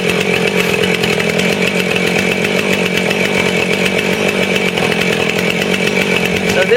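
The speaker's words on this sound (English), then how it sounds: "I'll show you how the saw, just go right through it" A Husqvarna 450 Rancher chainsaw cuts through a wet ash log about 13 inches across, its engine a loud, close, continuous buzzing snarl held steady throughout without pause.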